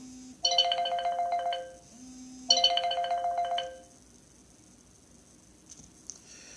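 Two bursts of a bright, warbling electronic phone ringtone, each about a second long with a short gap between, close and clear with no talking, then quiet room tone.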